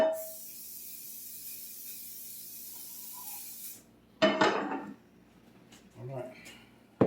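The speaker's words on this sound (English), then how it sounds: "So I'm going to spray some of this in the pan here." A short hiss of cooking spray into a cast iron skillet lasting a few seconds, then clatter and a voice speaking afterward.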